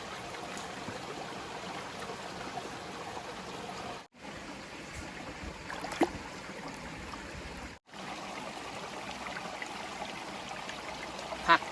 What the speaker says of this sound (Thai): น้ำใส เป็นร่องลำธารแล้วเนี่ย